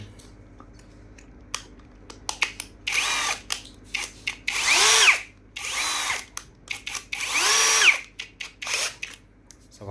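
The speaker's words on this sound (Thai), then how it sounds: "แล้วก็เอาสว่าน" A power drill whirs in several bursts while repairing an air gun, spinning up and winding down between short clicks and handling noises, fairly close.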